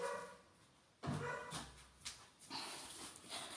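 A dog whimpers and lets out a few short yips and barks in separate bursts, fairly close but soft, over a hissy background.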